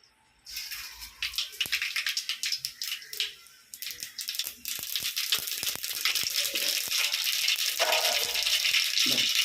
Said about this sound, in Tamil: ஏப்பா கடுகு பருப்பு போடுறேன்.